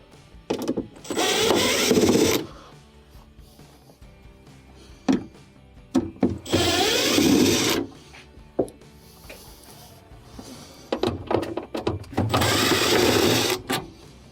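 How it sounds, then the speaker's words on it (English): A powered screwdriver backs Phillips screws out of a refrigerator's interior panel in three separate bursts of whirring, each a couple of seconds long, with small clicks and handling noises in between. "Then we will need to remove a couple more Phillips screws"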